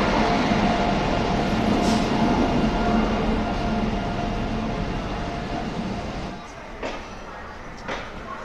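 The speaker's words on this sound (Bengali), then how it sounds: "ট্রেন ঢুকছে" A passenger train pulls into a station platform with a loud, steady rolling rumble that holds for about six seconds, then eases off, leaving a couple of brief knocks and clanks nearby.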